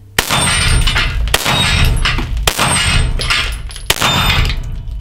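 Four pistol shots strike a steel gong target in the dark, each a loud close crack with a ringing metallic clang that sustains until the next hit, spaced roughly a second apart.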